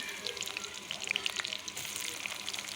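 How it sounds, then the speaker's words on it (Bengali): Chopped onion sizzles in hot oil in a kadai, a steady bright crackle with scattered sharp pops throughout, close and moderately loud with no talking. "তেলটা গরম হয়ে গেলে দিয়ে দিলাম পেঁয়াজ কুচি।"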